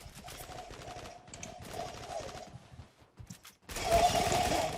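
An AK rifle fires in the online shooter Zula in rapid automatic bursts, with short pauses between volleys and a long, loud sustained burst at the end.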